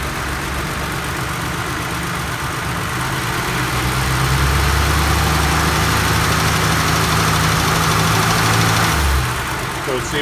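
A vintage Mopar car engine idles steadily, then revs up to a higher, sustained drone before dropping back toward idle near the end, loud and close throughout.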